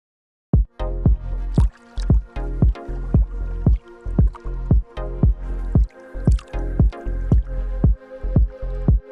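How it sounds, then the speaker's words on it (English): Rhythmic water drips from a sample in a dub techno production, about twenty plopping droplets in a steady, slightly uneven pulse, each a sharp, resonant plink with a quick decay, close and clear with no talk. "I'll use this water sound."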